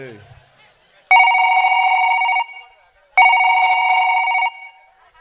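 A telephone rings in two long, loud bursts of bell-like trilling separated by a short silence, during a comedy stage drama. A brief voice is heard just before the first ring.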